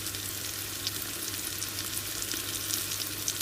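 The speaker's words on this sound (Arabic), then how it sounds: "راح نضيف عليه اللحم وراح نحمسهم سوية مرة ثانية. هذا بزيت شوية قليل" Onion and meat frying together in a little oil in a modest-sized pot for Iraqi yellow stew, a steady close sizzle with faint crackles running throughout, no voices.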